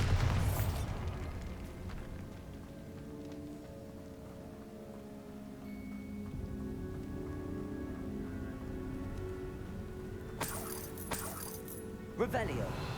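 Bombarda spell explosion in the video game Hogwarts Legacy, a sharp blast at the opening that settles into a low sustained rumble, with later crackling bursts over ongoing game ambience.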